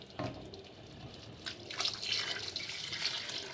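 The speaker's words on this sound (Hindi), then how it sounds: "अब मैं इसमें अपना पानी जो है ये मैं ऐड कर रहा हूँ।" Water is poured into a cooking pot of aloo chicken shorba with ghee, a continuous splashing gush that grows fuller and steadier over a few seconds, close by, with no talking.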